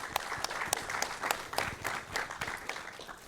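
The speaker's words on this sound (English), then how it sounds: "I would like to ask you for a huge round of applause for our professors here" A lecture audience at a robotics event applauds the professors, a steady dense patter of many hands clapping at moderate loudness for a few seconds.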